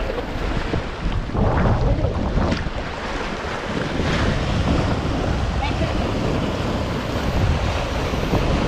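Sea-like waves rolling on the Nikli river in the Kishoreganj haor, a loud, continuous wash of surf mixed with strong wind buffeting the microphone throughout.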